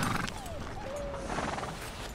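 A horse in the video game Red Dead Redemption 2 gives a thin, drawn-out whinny over a busy game soundscape. The call is moderately close and rises faintly above steady background noise.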